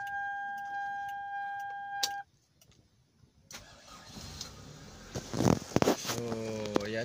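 A Toyota car engine cranks and catches after a hard start, turning over noisily then settling into a rough idle, preceded by a steady electronic chime and a brief click before the engine noise.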